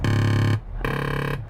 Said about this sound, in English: that's the sound of the lane tracking package